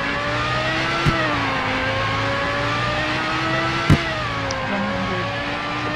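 A Lamborghini Gallardo Speciale in the Greenville video game gives a loud, sustained engine drone that climbs steadily in pitch as it accelerates, with a couple of brief sharp clicks over the constant roar.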